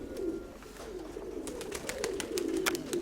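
Pigeons coo outdoors under a sunny sky, a steady low rolling coo repeating throughout, with brief higher chirps and clicks scattered over it.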